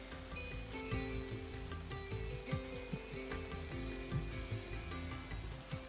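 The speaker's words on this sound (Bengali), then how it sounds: "আমাদের মাছ ভাজা হয়ে গেছে। আমরা এখন এটাকে উঠিয়ে ফেলবো তেলের থেকে।" Flower fish frying in hot oil, a soft continuous sizzle with faint crackles and pops running under background sounds and a low hum, quiet and close.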